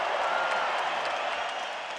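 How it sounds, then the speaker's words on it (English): Applause and some cheering from the arena crowd after a middleweight boxing bout at Madison Square Garden, a broad steady wash of clapping that fades slightly, with no announcer talking over it. "A round of applause for both fighters in this middleweight contest."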